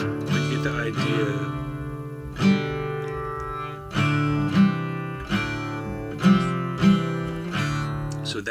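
A guitar in an alternate tuning rings out with strummed and picked chords, open strings sustaining richly under new attacks every second or so, played close and unaccompanied.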